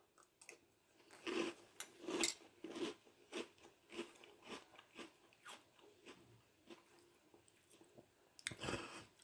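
Brownie-flavored chocolate cereal soaked in milk is chewed close up, with soft wet crunches in an irregular rhythm of repeated bites. The chewing is quiet and stands alone, with no talking.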